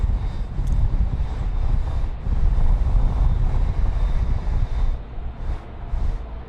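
A Qantas Boeing 787-9 heavy jet departing Sydney Airport for Johannesburg makes a steady, loud broadband roar, with wind buffeting the microphone throughout and no talking.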